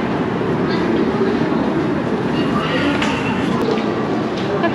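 A Daegu light rail metro train runs on an elevated line, heard from inside as a loud, continuous rumble and rattle that stays steady throughout.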